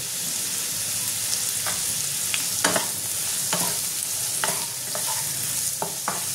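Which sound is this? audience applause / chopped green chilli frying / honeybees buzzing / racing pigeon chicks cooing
chopped green chilli frying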